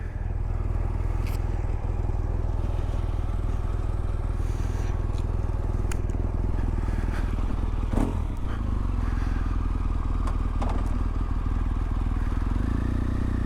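Riding a Harley-Davidson Pan America motorcycle, with a constant loud engine drone and wind rush heard from the rider's position, plus occasional scrapes and clatter over the steady roar.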